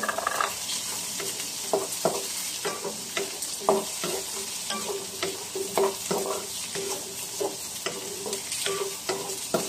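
Laing with kikiam stirred in a cooking pan, a spoon scraping and clinking in a steady, repeated rhythm over a soft constant sizzle, close and fairly quiet.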